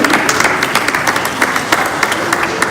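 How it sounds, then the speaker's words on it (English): An audience at the PMConf 2018 conference breaks into applause, a dense wash of many hands clapping from a sizeable room, steady and moderately loud for a few seconds. "I think a round of applause to the PMC team."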